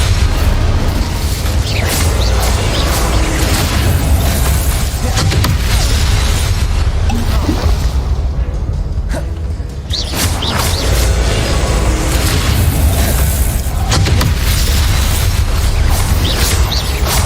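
An Incendio fire spell goes off in Hogwarts Legacy amid a dense, continuous barrage of booming bursts and crackling impacts, loud throughout with a brief dip partway before the blasts resume.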